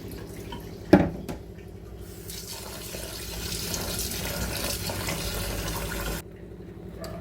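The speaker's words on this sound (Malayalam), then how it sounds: "റൈസിലുള്ള സ്റ്റാർച്ചെല്ലാം നന്നായിട്ട് പോകുന്നത് വരെ നമ്മളിത് വാഷ് ചെയ്തെടുക്കണം." Soaked rice is washed in water for dosa batter, producing continuous close splashing and sloshing with a sharp knock near the start, running steadily for several seconds before cutting off near the end, with no talking.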